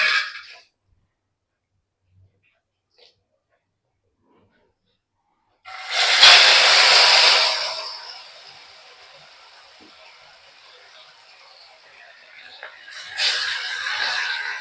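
Marinated vavval (pomfret) fish pieces hit hot oil with a loud burst of sizzling that settles into a steady, quieter hiss, then flares up again near the end after a silent stretch.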